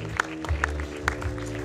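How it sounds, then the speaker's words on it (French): A gala audience at the closing ceremony of a Liège crime film festival applauds the jury members, broad steady clapping from a crowd with a few sharper claps standing out. "on peut les applaudir"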